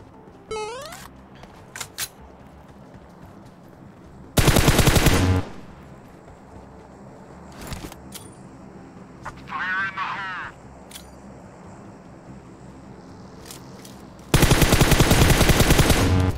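Bursts of automatic gunfire from the battle royale shooter PUBG, two loud sustained volleys about ten seconds apart with a few scattered single shots and game effects in between.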